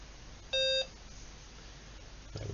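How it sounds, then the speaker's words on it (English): An Acorn Electron computer gives a single short, clean electronic beep at switch-on, standing alone against a quiet background with a faint soft thump shortly after. "nostalgic beep sound. It's not quite the same as the BBC, it's just a single beep, this one."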